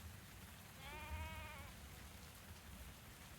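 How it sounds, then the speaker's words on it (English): Steady rain falls across a video game scene, a soft continuous patter throughout, with a brief animal-like bleating tone rising over it partway through. "It's raining again."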